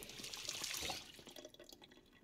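Drinking-water sound effect from the survival video game Project Zomboid: a steady, splashy wash of running liquid lasting about two seconds, fading slightly toward the end, with no speech.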